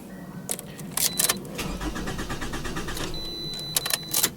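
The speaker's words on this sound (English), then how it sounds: "You can hear it trying to spin, but it won't crank." Toyota RAV4 engine failing to start, a starter whirring and struggling to spin in short repeated bursts with clicks and rattles, fairly close and moderately loud, with no voices.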